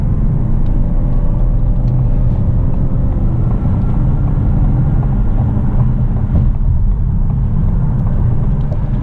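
Steady low-pitched road rumble and tire noise inside a 2018 Lincoln Continental Black Label luxury sedan while driving, a constant muffled drone with no voices.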